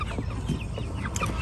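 Ameraucana chickens on a farm cluck in short, close, overlapping calls over a low, busy background of other farm noise.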